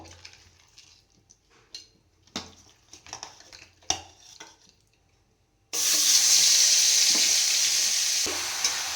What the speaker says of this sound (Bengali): এটা এখন আমি তেলের মধ্যে দিয়ে দেব